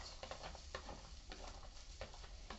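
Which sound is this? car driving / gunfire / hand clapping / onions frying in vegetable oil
onions frying in vegetable oil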